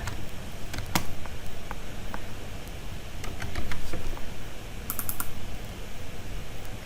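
Typing a folder name on a computer keyboard: bursts of light, quick key clicks in short irregular runs, close and clear against a faint steady background hiss, with no talking.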